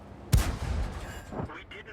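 A tank cannon fires once in a tank battle video game, a single heavy boom near the start that rolls off into a rumbling tail, with a voice commentating briefly afterward.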